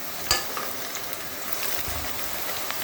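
Masala with onions frying in a pan, a steady dense sizzle with a spoon stirring and one sharp clink near the start, close and continuous, no talking.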